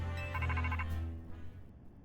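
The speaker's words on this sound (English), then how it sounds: "Oops, that's my phone, my bad." A phone in Pokémon Legends: Z-A rings with a short electronic trilling tone over a low hum, fairly quiet and brief, fading out with no talk.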